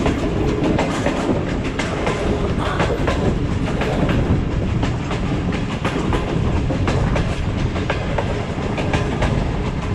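The Allama Iqbal Express on the Sialkot to Lahore route runs through the green Dumala station at around 30 speed, with loud continuous wheel rumble and rhythmic clickety-clack of the railcars from onboard.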